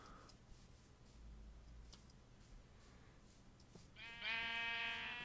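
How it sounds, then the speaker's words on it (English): A sheep bleats in the blocky video game Minecraft, a single wavering bleat rising near the end after quiet ambient game sounds. "Oh, there's a sheep."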